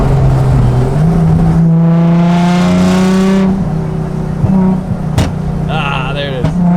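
The engine of a Nissan 350Z drift car with an angle kit idles, then revs hard to a loud high wail that holds for a couple of seconds before dropping back, followed by sharp blips and pops, close and dominant.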